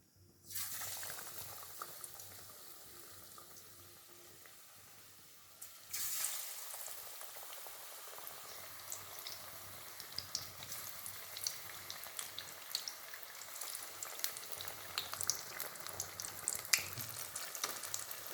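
Young pumpkin slices dipped in dosa-consistency batter sizzle as bajji fritters deep-frying in hot oil; a quieter, steady hiss swells into a louder, crackling bubble after a few seconds and keeps up continuously.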